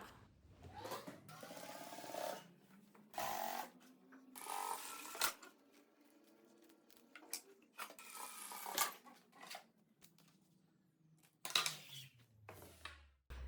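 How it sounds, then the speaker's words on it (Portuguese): Sewing machine topstitching along the edge of a fabric ecobag, close whirring runs broken into short bursts and pauses, fairly quiet overall. "E aí eu vou fazer aqui um pesponto em toda a borda."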